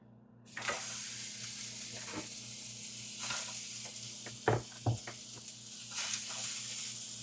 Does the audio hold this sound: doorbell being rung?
no